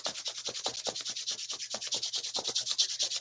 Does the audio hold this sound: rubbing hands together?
yes